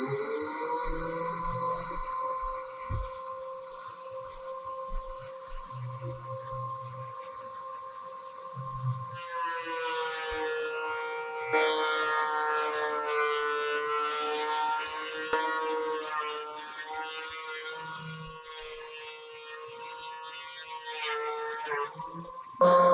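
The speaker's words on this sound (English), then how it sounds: "So we're gonna put this through the planer." A wood planer feeds old painted molding, shaving off the paint layer: a loud, steady motor whine with dense high-pitched cutting noise that grows rougher and busier about halfway through as the board engages, running continuously without talk.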